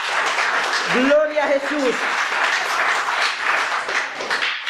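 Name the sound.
congregation applauding in church service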